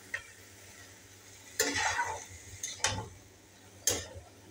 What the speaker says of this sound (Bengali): সেদ্ধ করে রাখা মোচাটা দিয়ে দিয়েছি, এবার ভালোভাবে কষতে হবে।